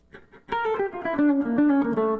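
A short descending scale run of single electric guitar notes, played downward from the fifth to the seventh scale pattern in quick succession, moderately loud with slight sustain, after a few faint notes at the start.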